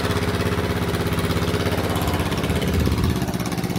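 A borrowed motor runs steadily up close to pump floodwater out of San Pedro Purok 5, its chugging engine drone loud and continuous with a fast regular pulse, with no voices over it.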